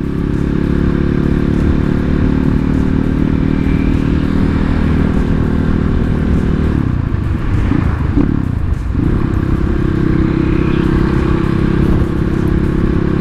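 A Kawasaki KLX motorcycle engine bored to 248cc idles smoothly and steadily at close range, with a brief dip in its hum partway through.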